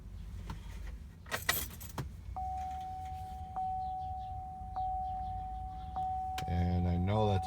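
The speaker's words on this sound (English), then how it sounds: "2011 Chevy Silverado 1500. Starts up pretty quick." Keys jangle and a 2011 Chevy Silverado 1500 engine cranks and catches quickly, settling into a rising idle, while a steady electronic chime repeats inside the cab.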